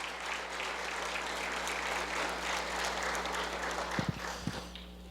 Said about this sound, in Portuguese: Será que você pode dar um aplauso a Jesus pela vida do nosso pastor?